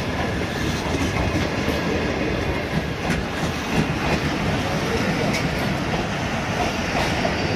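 The Shalimar Express passenger train rolls through Drigh Road station, a loud steady rumble with rhythmic wheel clatter and faint squeals, close by, with voices speaking over it.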